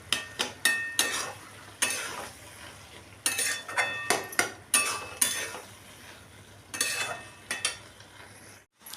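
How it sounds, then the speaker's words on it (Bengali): A utensil scrapes and knocks against a pan in repeated bursts as boiled potatoes and fried egg are stirred together, with a faint sizzle between strokes and a brief quiet moment near the end. "দিয়ে আবারও ভালো করে নাড়াচাড়া করে নিচ্ছি"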